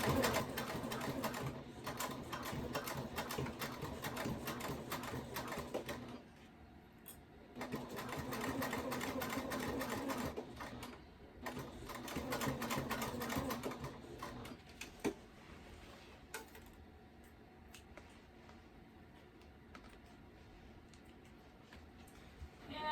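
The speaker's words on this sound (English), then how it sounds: "I'm gonna back stitch on that middle seam." A sewing machine back stitches along the middle seam of a tote bag, running in several steady, rapid whirring bursts with brief pauses between them, close and continuous with no talking.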